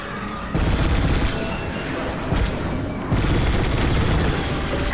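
Starfighter cannon fire and booming explosions in the Star Wars: Squadrons space combat game, loud and dense, with repeated heavy bursts rolling over continuous battle noise.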